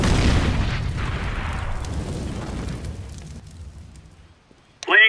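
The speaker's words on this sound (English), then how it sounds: "Throwing a grenade." A grenade explodes in Counter-Strike: Global Offensive, a deep heavy boom that fades over several seconds into a long rumbling tail, with a brief voice at the end.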